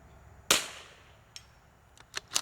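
A sharp .22LR rifle shot cracks loudly and close before its echo decays, then a few fainter, brief metallic snaps follow, fitting rounds striking a steel target at a precision shooting range.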